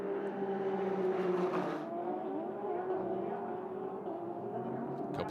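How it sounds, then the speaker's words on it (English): An Acura GT race car fitted with an MBRP performance exhaust, racing in a Blancpain GT World Challenge event at Las Vegas Motor Speedway, gives a sustained, buzzing engine drone whose pitch shifts as it works through the track. "has hustled that MBRP Performance Exhaust Acura right under the tail of Miller"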